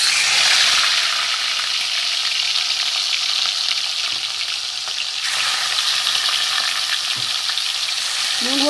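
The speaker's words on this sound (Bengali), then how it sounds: "এই মাছ আমি তেল বসিয়ে দিয়েছি। আমি মাছগুলো ভেজে নেব।" Salt-and-turmeric-coated katla fish pieces fry in hot oil in a pan, giving a loud, dense, continuous sizzle with faint spattering throughout and no talking.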